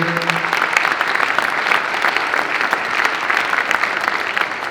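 Sustained applause from a crowd at a solar sales talk, dense clapping holding at an even level throughout, fairly loud and close.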